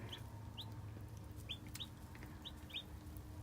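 Newly hatched chicks settled into a brooder give repeated high, thin peeps at a steady pace, each call short and fairly faint, over a low constant hum.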